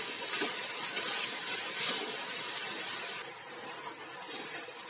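Rice and mung dal frying together in a pan for khichuri, a steady soft sizzle and hiss running throughout, fairly close with no talk.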